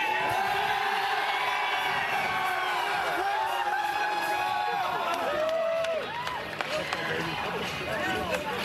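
A beach volleyball crowd at the Manhattan Beach Open men's final cheers and whoops after championship point, a loud sustained roar with a commentator talking over it.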